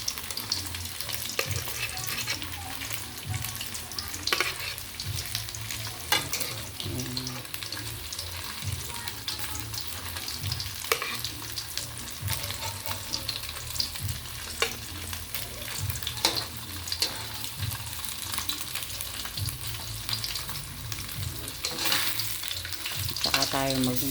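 Fried rice with luncheon meat sizzles steadily in a pan, with continuous frying crackle and occasional stirring scrapes, close and alone with no talk.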